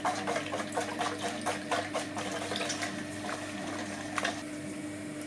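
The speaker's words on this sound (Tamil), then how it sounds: "தேவையான அளவுக்கு உப்பு, கொஞ்சம் தண்ணி ஊற்றி நல்லா கரைச்சி விட்டுடலாம்" Water is poured and stirred by hand to dissolve salt and sugar for parotta dough, giving a steady soft splashing and swirling with faint rhythmic stirring strokes under a constant hum.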